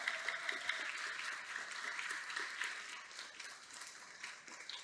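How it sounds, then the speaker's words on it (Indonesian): An audience at a literacy seminar claps in steady, fairly faint applause that lasts several seconds and slowly fades toward the end. "Tepuk tangan untuk panjenengan semua."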